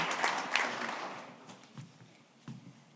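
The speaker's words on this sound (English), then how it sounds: "I'd like to give him a little round of applause" An audience at a town meeting gives a brief round of applause that starts brisk and loud, then quickly thins to a few scattered, fading claps.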